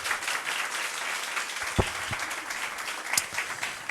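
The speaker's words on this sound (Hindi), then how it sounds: "क्यों ना जोरदार ताली बजाए फिर से" A church congregation applauds, a short burst of scattered clapping that rises and fades within a few seconds, with some faint voices mixed in.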